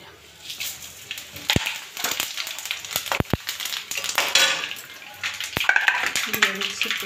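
Soaked poha goes into hot oil in a wok, giving a soft sizzle and scraping stir with sharp clinks of a spoon against the pan, busy and close, with faint voices in the background.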